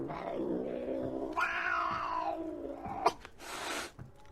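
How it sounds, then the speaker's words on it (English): Several cats yowl and caterwaul in long, wavering cries, one rising into a harsh screech, with a sharp hiss near the end. "Put cat sounds in there, like cats going proper bonkers."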